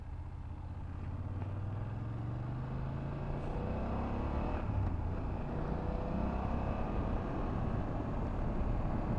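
A BMW F800GS motorcycle at freeway speed, its steady engine drone and rising pitch nearly buried under constant heavy wind rush, with no voices.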